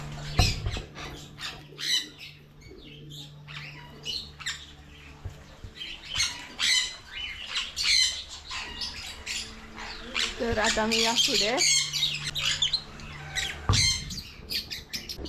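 A lively mix of squawks, chirps and clucking calls from ducks, pigeons and roosters nearby at the Big Foot Museum in Loutulim, Goa, with a person speaking briefly over the noise.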